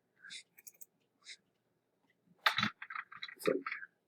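Short bursts of computer keyboard typing, a few scattered clicks followed by a quicker cluster of keystrokes, close and fairly quiet with silent gaps between.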